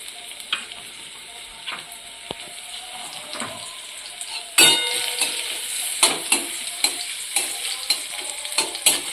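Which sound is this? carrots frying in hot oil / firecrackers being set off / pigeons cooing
carrots frying in hot oil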